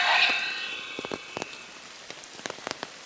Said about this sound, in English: the rain hitting the umbrella and the leaves all around me